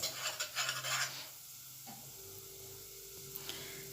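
Spices being stirred into a pan of rice and liver, a brief scraping rustle at first, then quieter pan sounds with a faint ticking, close and without talk.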